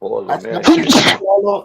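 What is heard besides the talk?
sneeze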